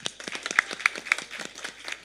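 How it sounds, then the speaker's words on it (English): Applause from an audience at a school production of Grease, a dense patter of many hands clapping steadily throughout, fairly close and lively, with a few sharper individual claps standing out. "Let's give a round of applause for these kids"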